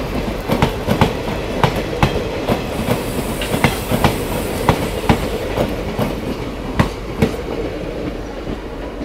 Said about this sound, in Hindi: तो ये ट्रेन अब बढ़ेगी तिनसुकिया के लिए